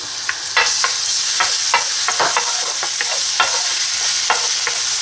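Garlic sautéing in hot oil in a pan makes a loud, continuous sizzle, with scattered scraping and stirring clicks from a utensil against the pan.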